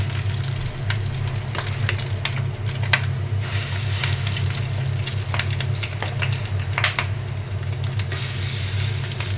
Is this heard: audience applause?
no